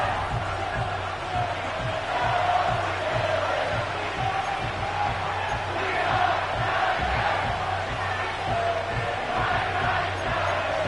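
Stadium crowd in an EA Sports football video game set at Nissan Stadium in Nashville, a continuous roaring wash of cheering and shouting that holds steady and loud throughout with no clear pauses.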